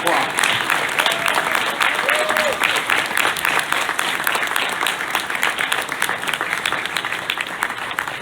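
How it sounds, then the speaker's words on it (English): A crowd applauds steadily with dense, sustained clapping throughout, a few faint voices and cheers mixed underneath. "Give him a round of applause."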